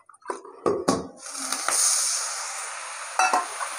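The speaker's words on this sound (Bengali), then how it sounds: "এবার দিয়ে দেবো লঙ্কার গুঁড়ো, জিরের গুঁড়ো, একটু জল দিতে হবে, মশলাটা পুড়ে যাচ্ছে।" Chili and cumin powder masala frying in a pan gives a soft hiss, broken by several sharp clanks and scrapes of a utensil against the pan.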